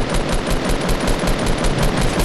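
Rapid automatic gunfire in Fortnite aimed at a guided missile, a dense, loud, unbroken stream of shots with a fast rhythmic rattle and no voices.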